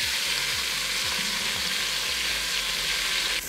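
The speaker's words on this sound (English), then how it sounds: "It is ready for the chicken. We want to get a nice golden brown color on both sides." Chicken pieces brown in olive oil in a pot for Mexican chicken noodle soup, giving a loud, steady, dense sizzle that fills the whole moment without pause, with no voices.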